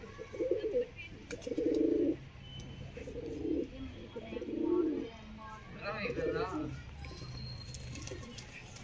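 A pigeon coos repeatedly in low, throaty bursts, close by, with people talking and some rustling in the background.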